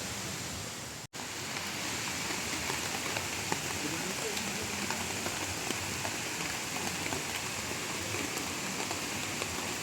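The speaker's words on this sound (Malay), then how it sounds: "Hujan renyai-renyai. Semuanya sekarang tengah lepak tidur dalam tent masing-masing lah." A light drizzle falls on tents at a riverside motorcamping campsite at Lata Perahu, Kuala Kangsar, a steady soft patter of fine drops that continues evenly throughout after one brief dropout, with no voices.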